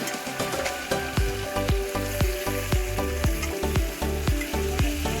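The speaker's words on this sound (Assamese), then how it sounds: "তাৰপৰা এতিয়া মই মাংসখিনি ইয়াতে দি দিছোঁ। খুব ভালদৰে মই ভাজি ল'ম।" Mutton pieces frying hard in hot oil in a pan for a curry, a loud steady sizzle broken by repeated rhythmic scraping strokes of a spatula stirring the meat, with no talking.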